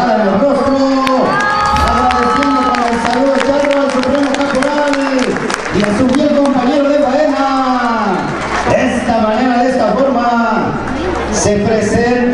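A large crowd cheers, shouts and applauds at a charreada escaramuza team presentation in Tecamachalco, Puebla, Mexico. The sound is loud and continuous, with raised voices and shouting riding over the steady noise throughout.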